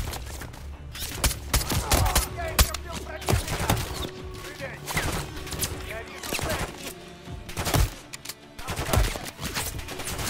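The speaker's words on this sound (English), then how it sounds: "Quad tapping someone with a fucking marksman rifle." Rapid gunfire from a marksman rifle and other weapons crackles through a Modern Warfare 3 campaign battle, sharp close shots stacking into busy bursts over a rumbling game soundscape.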